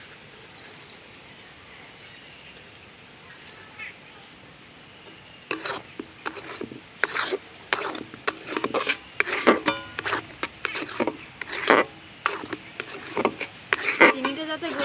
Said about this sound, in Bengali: চিনিটা যাতে গলে যায় আমি এরকমভাবে নাড়তে থাকবো